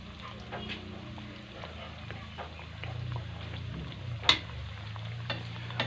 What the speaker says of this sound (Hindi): 2 पीसेस शामिल करते हैं, इसको फ्राई कर लेते हैं। ऑयल थोड़ा सा इसके ऊपर डालेंगे